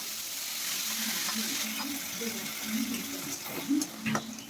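Green banana peel paste sizzles steadily in hot oil with fried spice tempering, a broad, even hiss with a few soft stirring bumps while a voice talks over it.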